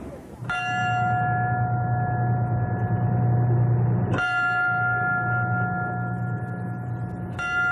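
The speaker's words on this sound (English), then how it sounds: "the bell at his firehouse tolled 3 sets of 3, the last alarm" A firehouse bell tolling the last alarm for a firefighter's final ride, three loud ringing strikes spaced a few seconds apart, each leaving a long sustained metallic ring over a steady low outdoor hum.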